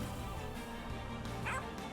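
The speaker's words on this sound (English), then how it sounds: "Dog still cheers on." A dog barks and yips in the video game Monster Train, short bright calls over a busy, continuous game soundtrack.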